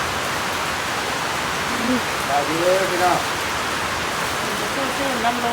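Heavy rain falls at a market, a dense, steady hiss of drops that runs throughout. People talk faintly underneath it.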